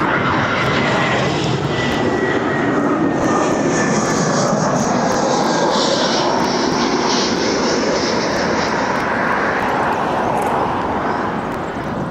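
A Lufthansa airliner arriving from Munich lands on runway 24R at Barcelona, its engines a loud, steady roar that holds for the whole stretch with a thin whine riding on top.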